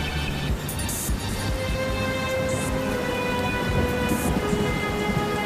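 Steady heavy rain pours throughout a storm, with low rumbling thunder rolling underneath and a few brief brighter cracks; dense, continuous and fairly loud, with no voices.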